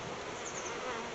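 Honey bees hum in a dense, steady buzz at an open beehive that holds a laying queen, close and continuous throughout without any voices.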